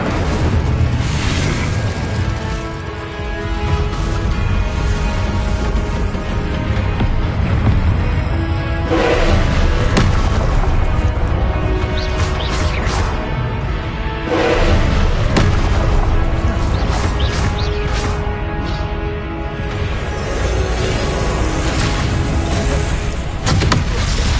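Fiery spell blasts from Incendio casting in Hogwarts Legacy, loud, dense booming bursts that recur through a constant battle din with no pauses, close and heavy throughout.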